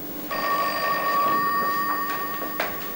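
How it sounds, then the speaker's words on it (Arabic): A telephone rings indoors with a steady, bright electronic bell tone that sounds continuously for over two seconds and is heard alone, with a few faint knocks near the end. "أرد على التليفون؟"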